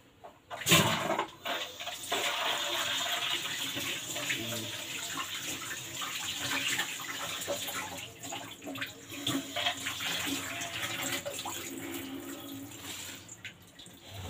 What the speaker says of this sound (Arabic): هغسل ايدي